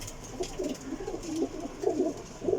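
Pigeons coo in soft, repeated throaty bursts inside a breeder loft housing mixed pigeon pairs, including Golden and Prince females, close and clear against a quiet background.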